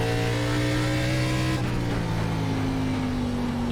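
An ARCA race car engine in the iRacing sim at North Wilkesboro Speedway drones loudly at steady high revs, its pitch shifting partway through as it runs on alone without talk.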